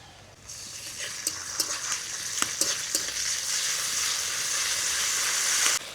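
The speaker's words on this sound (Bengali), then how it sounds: "এবারে দিয়ে দিব বাটা মশলা।" Ground spice paste hitting hot oil in a pan with fried onion, a sizzle that swells after a quiet start and continues steadily, with repeated sharp scrapes of stirring throughout.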